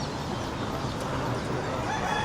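Chickens at a bird market, dense overlapping clucking and fowl calls under constant market bustle, close and fairly loud throughout.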